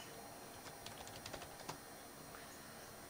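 Light keystrokes tap on a computer keyboard in a short, sparse run of clicks over a steady background hum, faint and close with no talk.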